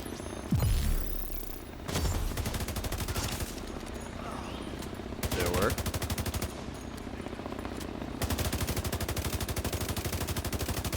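Heavy automatic gunfire from shooter game The Division 2, sustained bursts of rapid shots with booming impacts, loud and dense for most of the stretch with only brief pauses between volleys.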